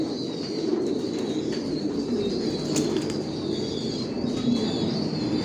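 A flock of racing pigeons coos continuously nearby in a loft, with bursts of wing flapping and a steady crowded hum of birds.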